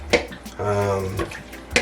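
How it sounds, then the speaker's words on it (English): Water runs and drips off freshly washed, cut-up raw whole chicken pieces as they are drained, a brief close splashing with a few sharp knocks and a steady tone in the middle. "We want to make sure that all the water is drained off"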